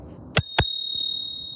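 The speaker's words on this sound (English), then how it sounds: "Oh, this is my bell. See, it has a bell." An OKAI Neon electric scooter's handlebar bell rings twice in quick succession, bright metallic dings that leave a long, clear ringing tail.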